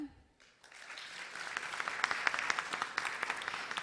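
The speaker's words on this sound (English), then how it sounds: "Round of applause, please." An audience at a conference session applauds as speakers are introduced, a steady crowd clapping that swells from a quiet start and carries on evenly.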